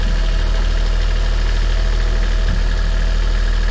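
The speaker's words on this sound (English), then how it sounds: "I'm pretty sure it's the bearing on the alternator." A sailboat engine runs loud and close with a constant low, rumbling drone while its alternator charges the battery. A failing alternator bearing adds a rough, knocking vibration throughout.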